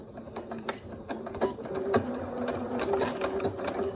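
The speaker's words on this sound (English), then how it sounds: "as I sew, I'm going to do a little back stitch here." A sewing machine runs close by, stitching fabric for a cushion with a brief back stitch, its rapid mechanical clatter steady and loud throughout.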